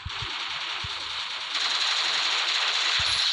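A Thompson gun fires in the Free Fire mobile game, with short bursts of automatic gunfire popping in and out over a continuous hiss of game audio, and no speech in between.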